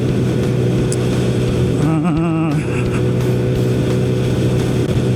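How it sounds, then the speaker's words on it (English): A Kawasaki Z900RS motorcycle with its catalytic converter removed and an open Kawasaki end can drones steadily at idle, a deep continuous exhaust rumble with a brief wavering tone near the middle. "this motorcycle, this Kawasaki Z900 RS"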